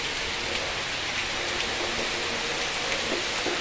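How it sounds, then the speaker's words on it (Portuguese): Heavy rain in Ceará falls steadily and loudly on an old abandoned house, a dense, constant hiss of drops with no pauses. "Chuva forte aí à vontade."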